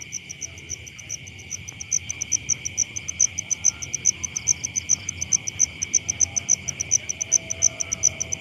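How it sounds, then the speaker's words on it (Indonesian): Frogs croak at night, somewhere enclosed, outside the rainy season: a steady, rhythmic run of repeated calls over a constant high insect chirring, moderately close and with no voices. "di dalam sini banyak suara kodok, petok petok petok petok petok petok petok petok petok gitu loh"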